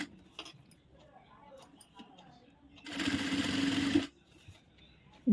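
A sewing machine stitches a back-open hook blouse in one loud run of about a second, set between stretches of quiet talk with faint handling noises.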